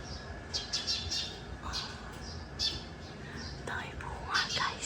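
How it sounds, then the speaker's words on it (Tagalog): Scattered bird chirps and tweets, light and fairly distant, repeating irregularly over a soft outdoor hiss. "Ay, may mga ibon pa"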